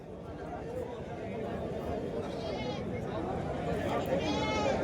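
Goats bleat at a village goat market in Peth Vadgaon, several calls rising over a steady murmur of crowd chatter and nearby voices.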